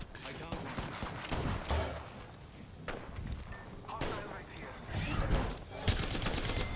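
Gunfire barrage in a video game, uneven bursts of rapid shots and thuds rising and falling, mixed with a player talking.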